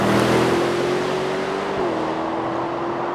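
A 2026 Aston Martin Vantage Roadster pulling away, its engine droning steadily with a held tone that shifts down partway through, loud and close with no talking.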